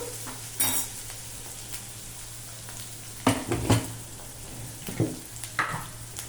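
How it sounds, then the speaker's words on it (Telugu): A soft background sizzle from a pan of tempering spices frying, broken by several sharp clinks and scrapes of a spoon stirring against the pan, with a low hum throughout. "తగ్గనివ్వండి తాలింపు"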